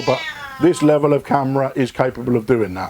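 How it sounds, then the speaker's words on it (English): A Siamese cat meows loudly and repeatedly in long, drawn-out cries close by, mixed in with someone speaking at the same time. "If you can hear that horrible noise, that's one of our Siamese cats."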